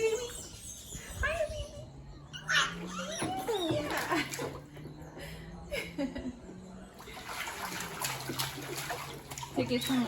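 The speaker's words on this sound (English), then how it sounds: "I have her soaking in her bathtub in warm water." A young child with clubfoot leg casts soaks and plays with toys in a warm bathtub, with soft splashing and sloshing water throughout and the child's babbling vocal sounds rising over it.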